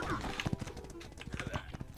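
A horse gallops in a strategy video game, rapid rhythmic hoof clops close by over a busy background.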